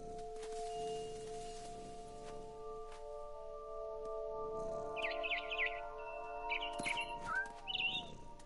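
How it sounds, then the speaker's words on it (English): Barn swallow chirps in a video game, short bright twittering bursts in the second half over a steady bed of tonal hum and ambient game sound, moderately close and not loud. "Then I heard chirping outside my window. It was a barn swallow going back to her nest."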